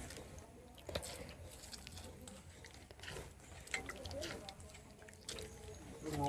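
A hand kneads and squeezes grated coconut soaked in water, giving soft, wet squishing and sloshing over steady low background noise.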